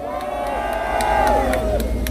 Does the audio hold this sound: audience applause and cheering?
yes